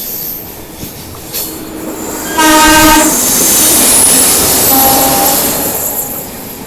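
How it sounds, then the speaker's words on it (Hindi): Deccan Queen express passing with banker locomotives at the rear: a loud, sustained rumble and rush of the train, a long steady horn blast, and high wheel squeal, heard close with no talk. "ये देखो बैंकर लोकोमोटिव निकले।"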